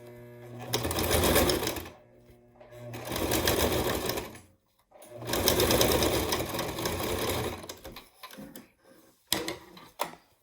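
Sewing machine stitching thick fabric with iron-on fusible interfacing for a surgical mask, loud steady mechanical whirring in three long runs separated by short pauses, ending with a few uneven stops and clunks.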